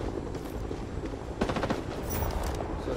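Gunfire and grenade launcher fire in the video game Rising Storm, a dense, continuous crackle of automatic fire with sharper bursts and thuds in the middle, loud and without talk.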